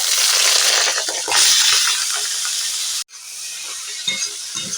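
Mussels frying in oil in a wok, a loud dense hiss and sizzle that stops abruptly, then quieter crackling with a few small knocks.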